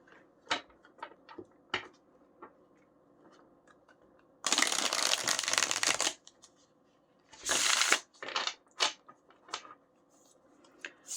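Two tarot card decks are shuffled close up in two bursts of dense riffling lasting a couple of seconds each, with scattered light card taps and handling clicks around them.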